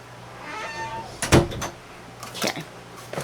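A house door swings open to let a pet cat in, with a couple of sharp knocks and scrapes from the door and a faint meow-like cry before it.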